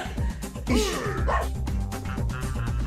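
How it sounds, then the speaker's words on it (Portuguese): A dog yelps and barks in short bursts amid a busy, loud mix of game-like music and effects, with a person talking over it. "Coitado do cachorro, não tá entendendo nada."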